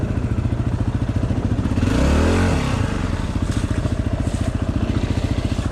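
A dirt bike engine revs hard in mud with a steady, loud rapid chug, swelling into a rising rev near the middle before settling back to a throbbing idle-like rumble.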